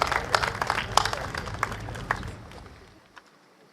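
Applause from a crowd at an outdoor political rally after a speech. Scattered claps and cheering build quickly, then thin out and die away to near silence by the end.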